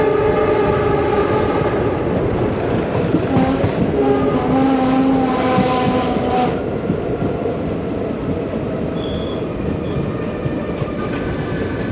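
Diesel-hauled Leelan Express passenger train (12467) rolling into Nagaur station, heard from on board: a loud steady rumble with rhythmic wheel clatter and a drawn-out horn tone midway, with no talking.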